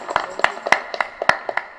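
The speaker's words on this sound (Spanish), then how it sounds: "Fuerte aplauso entonces para nuestra comunidad." A chapel congregation claps in a small, sparse patter: separate sharp hand claps in loose, uneven rhythm, fairly close and with no talking.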